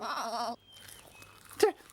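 A cartoon sheep gives one loud, wavering bleat, close and clear, followed by a quiet pause and a short, sharp second animal call near the end.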